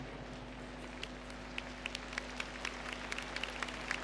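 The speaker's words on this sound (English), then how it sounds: "give him a big round of applause as he leaves the arena" Faint, distant applause and scattered claps ripple through an indoor dressage arena as a rider leaves, thin and sparse over a steady low hum.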